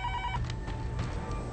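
A telephone rings after a call is placed: a short electronic ringback burst of repeated tones at the start, then a quieter hum and room noise as the ringing stops, with no talk.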